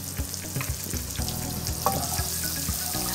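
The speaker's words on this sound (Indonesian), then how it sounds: "Nah, kita sekarang mau menumis bawang bombaynya." Onions sizzle as they sauté in butter, a steady close frying crackle with light clinks of a utensil against the pan.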